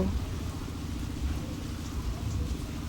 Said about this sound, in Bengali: জানালাতে বৃষ্টির ছাট আসছে দেখেছো মা?